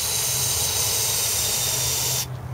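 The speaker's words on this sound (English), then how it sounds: "Now you want to spray that out." Water sprays steadily into a dirty bowl with a continuous close hiss. It cuts off abruptly just before the end, and no one speaks.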